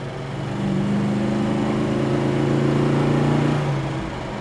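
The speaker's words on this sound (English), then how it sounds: "This one has a nice rumble to it" Idling rumble from the engine and exhaust of a 1970 Dodge Dart Swinger, a steady low throaty tone that swells slightly through the middle, close by with no talking.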